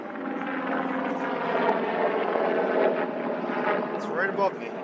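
A helicopter passing directly overhead, its steady rotor drone loud and continuous throughout, with speech over it.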